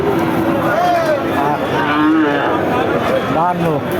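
A cow moos loudly several times over a constant noisy crowd murmur at a cattle market, the low bellows rising and falling.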